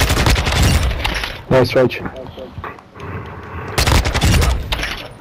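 Video game gunfire, dense bursts of rapid shots and booms, loud and continuous, with brief lulls, under a voice speaking a few words.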